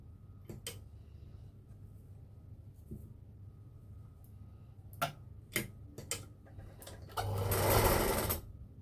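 Sewing machine stitching lace onto a kalash cloth, a short burst of rapid mechanical whirring near the end following scattered ticks and clicks of handling and adjustment.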